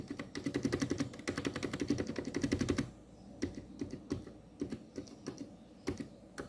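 Fast typing on a Meca 6 Plus mechanical keyboard with an acrylic gasket mount: a dense run of crisp clacks for about three seconds, then slower separate key presses with short pauses.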